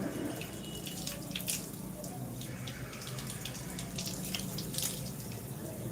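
Water runs and splashes steadily at a sink while a face is washed for ablution, a continuous close wash with brief louder splashes, and a faint voice occasionally underneath.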